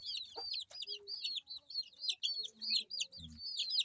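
Crossbred silkie chicks peep in rapid, high, repeated chirps, a busy cluster of close calls with a brief low thump near the end.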